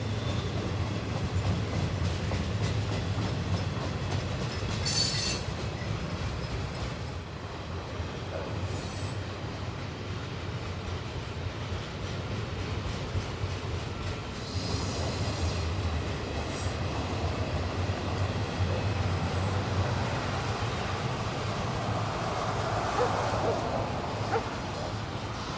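A Union Pacific double-stack container freight train rolls past on the Sunset Route, a long continuous rumble with clattering wheels and occasional brief squeals, steady and fairly close.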